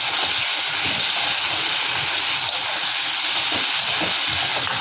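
Turmeric and Kashmiri chilli powder stirred in hot oil, a steady broad sizzling hiss running throughout with faint scraping under it, close and continuous with no talk.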